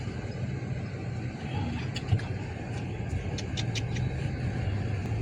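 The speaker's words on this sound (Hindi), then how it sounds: "ट्रैफिक जाम, गाड़ियां चल नहीं पा रही हैं तो ट्रैफिक जाम हो रहा है।" Road traffic crawling through a jam at a crossroads where police stand directing vehicles, a steady low rumble of engines with a few faint horn toots in the background, no talking.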